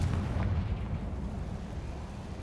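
A Confringo fire-blast spell explodes in Hogwarts Legacy, a rumbling, low-heavy burst that rolls on steadily and fades slightly, with no voices over it.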